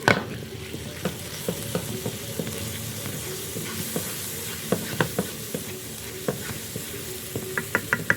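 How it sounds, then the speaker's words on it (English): A spoon stirs salt, turmeric and red chili powder through sizzling oil in a pan of Indian cooking, with a soft steady fry under sharp, irregular scrapes and clacks against the pan. "a bit of turmeric, a bit of red chili powder. I'll give this a mix."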